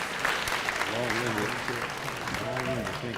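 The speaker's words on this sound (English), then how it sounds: "give these guys a great round of applause" Applause from an audience at a 2017 high school graduation ceremony, a steady dense clapping throughout, with a voice speaking over it.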